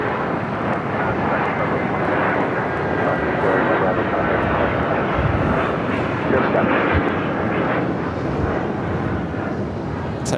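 A Frontier airliner rolls for takeoff on runway 7 left at Phoenix airport, its engines a loud continuous roar filling the whole stretch, with a voice talking faintly beneath.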